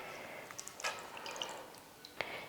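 Water drips and splashes faintly during the washing of sardines rubbed with salt, giving a few scattered, irregular drops and small wet taps over low background hiss.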